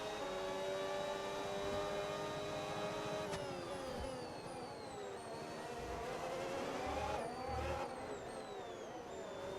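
Red Bull Formula 1 car engine in the racing video game F1 26, a thin high-pitched whine rising and dropping through gear shifts, steady and fairly quiet throughout.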